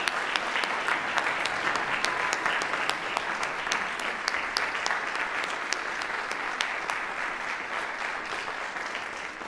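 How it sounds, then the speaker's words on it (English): Audience at a nursing hooding ceremony for Master of Science in Nursing graduates claps loudly and steadily, a dense sustained round of applause with a few sharper claps standing out. "another big round of applause for our Master of Science in Nursing"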